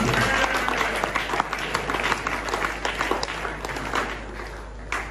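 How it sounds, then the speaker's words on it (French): A church congregation at a worship service breaks into sustained applause, a dense, even roar of many hands clapping throughout, with some crowd voices mixed in. "Est-ce qu'on peut acclamer pour la gloire de Dieu?"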